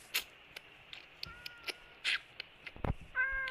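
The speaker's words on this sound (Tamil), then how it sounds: "மியாவ் மியாவ் பூனை குட்டி, எங்கே போகிற?" Cats meowing in the Minecraft video game during survival play, a series of short, scattered high mews and cries repeating irregularly over a quiet background, fairly close and clear.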